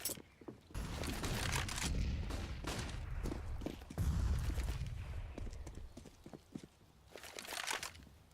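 Gunfire in a competitive Counter-Strike match: rapid bursts and single shots crack out in clusters over a steady, busy background of game noise, with louder flurries near the start and middle.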